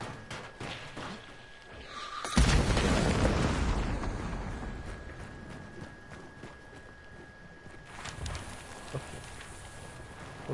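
A loud explosion erupts with a deep, roaring burst that slowly rumbles away over several seconds, followed later by a smaller second thud amid background noise.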